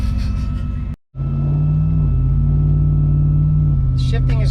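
A turbocharged Ford F150 pickup tuned to 10 psi, driving with a loud, steady engine rumble close up, briefly cut out for a moment, then droning on, with a voice speaking near the end.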